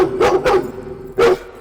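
A dog barks three times, loud and close: two quick barks, a pause, then a third, in a Hindi-dubbed police action film.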